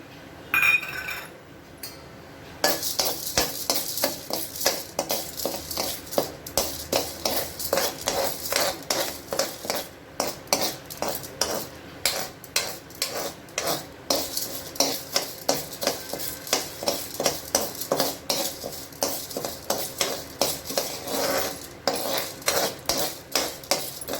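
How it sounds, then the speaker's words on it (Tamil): Ingredients for a keerai thuvayal being sautéed in oil in a pan, with steady metallic clinks and scrapes of a spoon against the pan in a quick repeating rhythm, close and fairly loud over a faint hiss. "தேவைக்கு எண்ணெய் ஊற்றி ஒவ்வொரு பொருளாக வந்து வதக்கி எடுத்துக்கலாம்"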